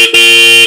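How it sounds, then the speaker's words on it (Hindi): Dual male-female horns fitted to a Royal Enfield Himalayan 450 motorcycle, very loud and close, a short toot then a sustained harmonic blare held for about half a second. "इसलिए हमने इसके अंदर लगाए हैं दो हॉर्न दोनों मेल फीमेल ओरिजिनल वाले। सुनते हैं साउंड इसकी"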